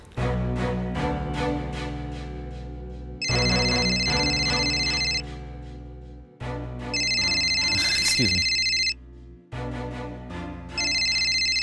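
A phone ringtone plays loudly as a repeating electronic melody for an incoming call, with short gaps between phrases and a brief spoken line partway through.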